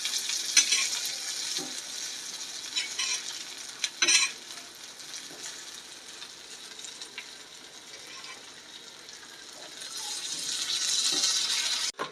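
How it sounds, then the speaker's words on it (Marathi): Veg bombil, a vegetarian take on Bombay duck, fries in a pan with a low steady sizzle over about twelve seconds. A few sharp knocks come as the pieces are flipped, and the hiss swells louder toward the end. "आता हे व्हेज बोंबील एक साईडनं फ्राय झालेत, पलटी करून घ्यायचे बघा."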